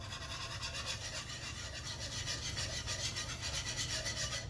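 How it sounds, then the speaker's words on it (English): Whisking homemade gravy in a pan while xanthan gum is sprinkled in, a close, steady, rapid scraping and brushing rhythm of the whisk, quiet and continuous with no speech. "You have to make sure you are solely sprinkling in the xanthan gum and whisk at the same time."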